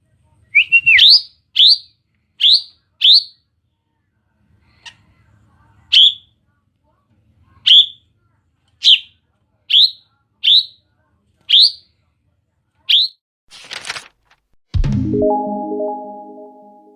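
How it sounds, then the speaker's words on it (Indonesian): Srintel bird song: a run of about a dozen short, bright whistled chirps spaced roughly a second apart, clear and alone, ending in a brief noisy burst and a low buzzy tone. "suara srintel agak mirip dengan cucak rawa"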